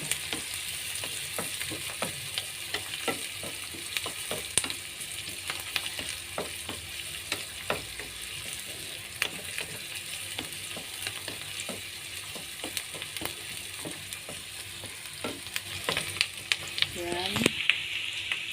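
Eggs fry in a pan for a cheap morning breakfast, sizzling steadily throughout with scattered scraping taps of a utensil, while a voice speaks briefly over the hiss.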